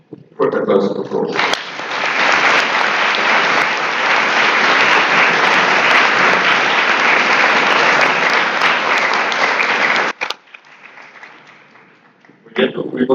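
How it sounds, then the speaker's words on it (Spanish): Loud, sustained applause from a large crowd at an award presentation claps continuously for several seconds, then stops abruptly, leaving faint room noise before a voice returns. "Fuerte aplauso, por favor."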